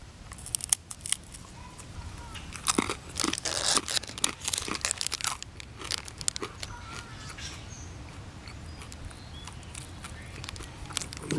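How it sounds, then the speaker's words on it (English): Crunchy bites and chewing of a dry Russian ration wheat cracker, a series of sharp crisp cracks and crackles clustered in bursts close to the microphone, with quieter chewing between them. "Try the cracker on their own, just out of curiosity."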